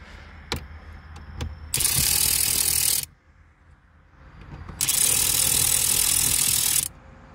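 Two long bursts of a power ratchet or impact driver backing out 7 mm bolts from the radio of a 2015 or later Chevrolet Colorado, loud and close, with a few small metallic clicks before and a pause between.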